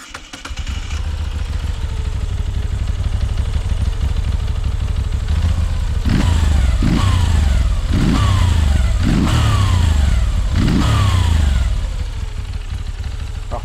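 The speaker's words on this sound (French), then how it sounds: "Je te propose maintenant d'écouter le bruit qu'elle fait." A Moto Guzzi V7 Special motorcycle's V-twin engine idling with a steady low thump, then revved several times in quick succession, each blip rising and falling, close and loud.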